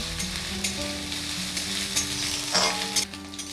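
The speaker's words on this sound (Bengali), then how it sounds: "আদাটা আমি ভালো করে ভেজে নেব।" Ginger paste frying in a pan for a Bengali moong dal and ash gourd ghonto, a steady close sizzle with faint stirring scrapes running throughout, no voices.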